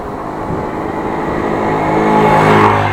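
A car drives past on a road near Appingedam, its engine and tyre roar swelling steadily louder and close over three seconds, heard from a bicycle.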